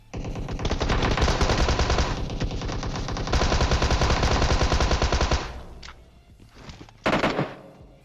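Automatic gunfire in the video game PUBG Mobile, long loud bursts of rapid shots from an AKM and other weapons, a brief pause, then another short burst.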